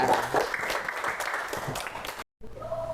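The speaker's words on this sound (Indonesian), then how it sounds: "Tepuk tangan kelompok 2" A classroom of students applauds for presenting group 2 with a dense burst of clapping that runs steadily for about two seconds, breaks off abruptly, then resumes more faintly.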